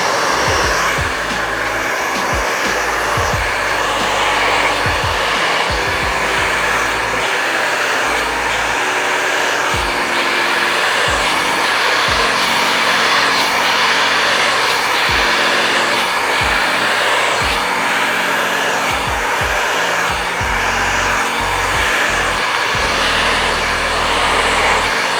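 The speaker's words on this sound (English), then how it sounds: "take your brush and your blow dryer and you're going to follow directly" A 5S barber blow dryer runs continuously at high speed, a loud steady whooshing roar with small bumps and clicks underneath, no one speaking.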